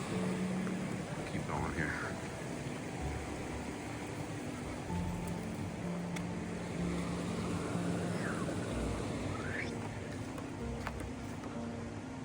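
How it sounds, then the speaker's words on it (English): The Fall Creek waterfall cascade makes a steady, soft rush of falling water that fills the background. A person speaks briefly over it. "it definitely has like a cascade, like a waterfall complex coming out of here"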